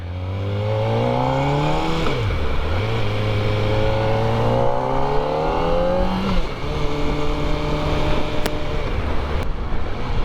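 A ZX-4RR motorcycle engine revs steadily and loudly up and down, a droning intake note rising in pitch, dipping briefly, then climbing again and holding near the end.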